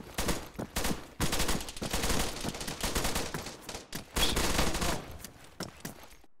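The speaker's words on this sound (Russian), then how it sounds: "слева стрельба" Dense gunfire rattles through a CTF match in an online shooter, overlapping bursts and single shots in rapid irregular volleys, loud and close with short gaps.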